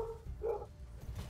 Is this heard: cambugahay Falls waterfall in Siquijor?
no